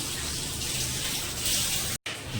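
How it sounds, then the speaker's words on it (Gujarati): Strong, steady rush of water from a tap in a newly fitted bathroom after plumbing work, loud and continuous with a brief cut near the end. "નળમાંય પાણી જોરદાર આવે છે"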